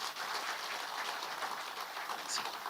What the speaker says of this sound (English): Ladies and gentlemen, let's give him a round of applause again.